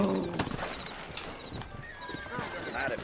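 Horse hooves clip-clop in the Red Dead Redemption video game, a close, steady riding rhythm with a short neigh and game dialogue layered over the hoofbeats.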